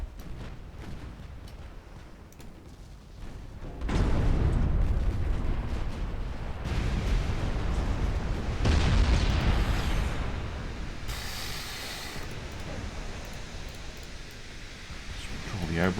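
Torpedo explosions in a naval battle in the DIP v2 video game, heard as heavy broadband booms and rumbling blasts that swell loud around the middle and trail into a sustained roar, with a bright burst near the end.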